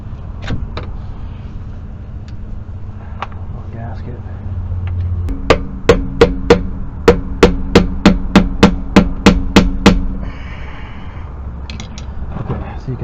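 About a dozen evenly spaced, sharp metallic taps ring out as a hammer drives a tool to cut loose the rear differential cover gasket on a Jeep WJ, over a low background hum.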